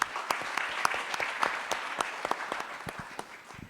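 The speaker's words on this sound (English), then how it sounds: "A round of applause to you as well." Audience applause at a career expo panel discussion, a smaller group clapping with distinct, audible individual claps that gradually thin out.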